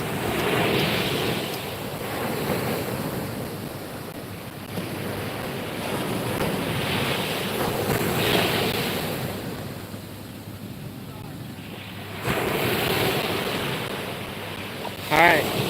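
Ocean waves roll onto an Ocean City, Maryland beach in a continuous roar of surf that swells and recedes, with heavy wind buffeting the microphone throughout.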